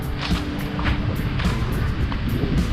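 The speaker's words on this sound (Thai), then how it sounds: "ลมแรงนะ" Strong wind buffets a GoPro 7 camera at Phayun beach in Rayong, Thailand, a steady loud rush of gusts with surf and sea noise beneath, continuous and close throughout with no talking.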